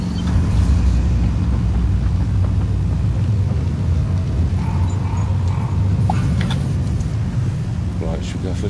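Car driving in the video game Dying Light, a constant loud low engine rumble and road noise running throughout, with voices talking over it.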